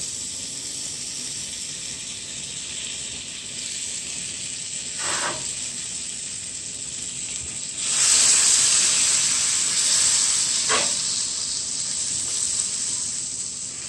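Butter sizzles and hisses in a hot skillet with a steady bright crackle, close up, swelling louder partway through with a couple of short clinks.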